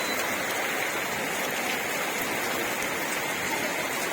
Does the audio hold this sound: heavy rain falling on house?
yes